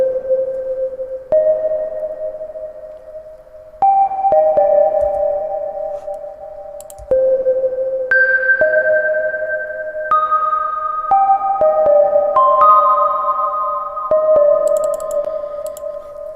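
Soft brushed bell tones from a simple sine-wave preset in Ableton Operator ring out one after another, clean sustained pitches stepping up and down in a slow, spacious melodic pattern with gentle attacks and no talking.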